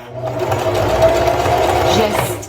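A sewing machine stitches down pleats on a puff quilt, a continuous close, steady whirring hum from start to finish, with a soft voice faintly under it.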